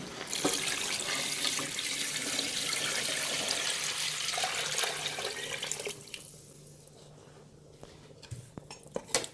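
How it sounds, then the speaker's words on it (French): Water gushing steadily into a pot for fish soup for about six seconds, loud and close, then tapering off to quieter trickles and a few clinks of the pot. "Donc là maintenant, on va rajouter l'eau."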